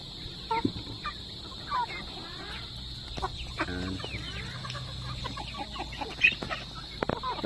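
Native chickens in a pen cluck and chatter in soft, scattered bursts over a steady background hum, with a few louder calls close by and no voices.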